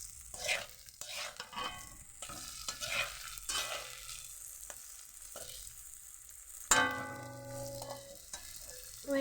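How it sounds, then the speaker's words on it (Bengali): Boiled potatoes are stirred and sautéed over low heat in a pan, with a soft sizzle broken by repeated scraping strokes of a spatula and a louder clank and burst of frying partway through. "এরকম সিদ্ধ করা আলুটা আমি ভালোভাবে কষিয়ে নিচ্ছি"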